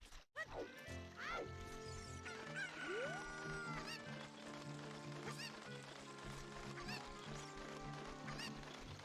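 A chicken in the Zelda Ocarina of Time video game clucks in short, squawky bursts, scattered over busy game music and effects at moderate loudness.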